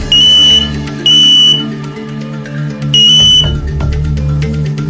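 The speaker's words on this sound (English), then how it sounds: "Install both audible and visual smoke alarms" A smoke alarm sounds in loud, shrill repeated bursts, three long piercing beeps separated by short gaps, with a steady hum and clatter underneath and no talking.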